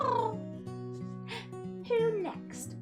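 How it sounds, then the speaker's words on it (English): A cat meows in a soft rising and falling voice, close and clear over a steady sustained musical background, with a second higher mew toward the end. "It's a little cat."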